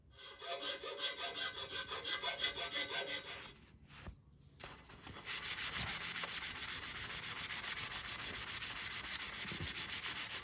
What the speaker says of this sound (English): after I've sanded down the filler on all the lugs where I've got some filler